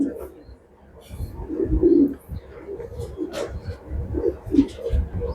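Racing pigeons coo in a loft, soft low murmuring calls repeating close by over a steady rustling background.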